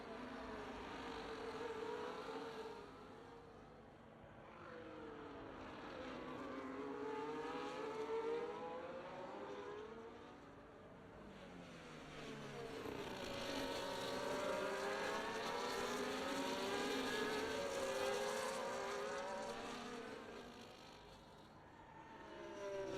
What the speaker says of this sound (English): Those cars do sound quite good in the game.